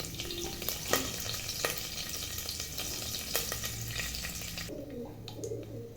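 Curry leaves, bay leaf, cinnamon, cardamom, stone flower and poppy seeds fry in hot oil for chicken biryani, a moderate steady crackle with occasional sharp pops and utensil clicks, thinning near the end.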